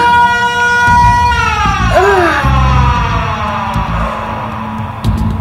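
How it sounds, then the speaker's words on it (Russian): A loud, close emergency siren wailing with a steady tone that sweeps and bends, accompanied by a rumbling heavy vehicle engine. "Ну, сирену! Звуки сирены!"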